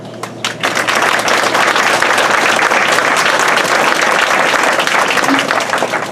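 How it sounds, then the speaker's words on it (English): A banquet crowd breaks into dense, sustained applause after a brief quiet start, many hands clapping loudly and evenly for several seconds in an indoor hall. "Everyone give a clap to Karen."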